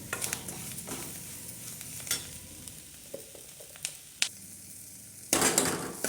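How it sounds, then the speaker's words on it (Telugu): Salt is stirred into a sizzling mixture frying in a pan while making chickpea (senaga) snacks, with a spoon scraping at irregular moments over a steady close fry and a louder burst of sizzle near the end. "కొంచెం మంచిగా కలపాలి"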